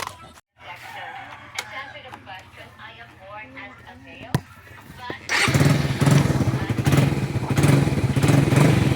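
A Suzuki Raider 150 carburetor motorcycle engine idles with a low steady hum, then roars louder and rougher after a few seconds, staying close and loud to the end.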